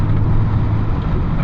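A BMW E39 535i V8 with an aftermarket exhaust gives a deep, steady, loud drone that holds constant throughout the short stretch, with no voices.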